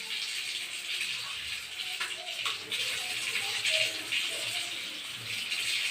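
Water runs steadily from a tap during washing, a continuous gentle splashing hiss with faint drips and small movements, fairly close.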